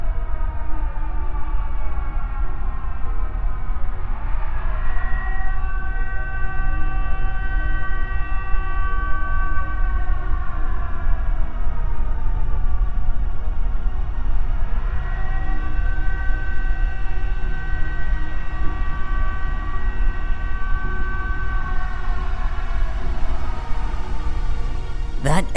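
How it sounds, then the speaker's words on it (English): A long, wailing tsunami warning siren rises and falls in slow cycles, echoing from a distance over steady background rumble. "I am speaking about tsunami warnings. Right on cue."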